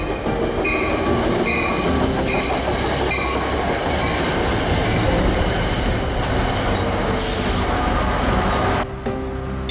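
Train rolling along rails at speed, loud and close, with a continuous rumble, rhythmic clicking over rail joints and repeated high squeals from the wheels, sustained throughout with a brief dip near the end; no voices.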